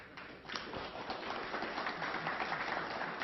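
An audience at a Granada Forum lecture breaks into a sustained wash of applause to welcome Trevor James Constable, a dense, even clatter of many hands with no speech.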